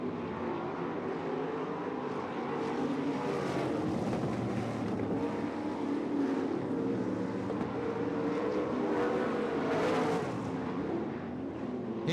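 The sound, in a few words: dirt track race cars racing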